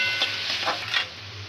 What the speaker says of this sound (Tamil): இப்போ வந்து தக்காளி வெங்காயம் நல்லா எல்லாம் வதக்கிட்டோம்